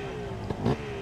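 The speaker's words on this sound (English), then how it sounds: "Two-stroke zinging." A two-stroke hill climb motorcycle at a Harley-Davidson event gives a brief nasal rev burst over a steady engine drone, close and moderately loud.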